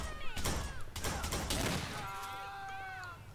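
Gunfire in a GTA IV shootout involving vehicles: a rapid burst of several loud close shots in the first two seconds, followed by tonal whining sounds, with game noise throughout.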